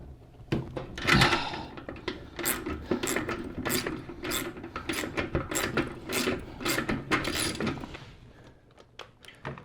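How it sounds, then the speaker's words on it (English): Wrenches, an Allen key and an open wrench, working a nut loose on a Harley Sportster, giving a series of close metallic ratcheting clicks and clanks with small scraping handling noises and no talk. "we're going to take a 1/4-inch Allen wrench here. And a 1/2-inch wrench onto the other side. I'm going to break the nut free"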